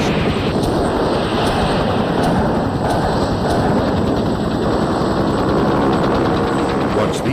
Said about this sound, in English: ARA, aerial rocket artillery crews, lace the LZ with rockets and machine guns